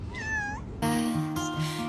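A pet cat gives a rising, drawn-out meow, followed by a longer, louder, strained caterwauling meow, close and clear with no talking.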